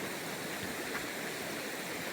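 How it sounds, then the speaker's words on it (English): Swan River, a small mountain river along the Colorado Trail, rushing steadily in a continuous broadband wash of flowing water, fairly close and unchanging, with no voices. "Beautiful little river."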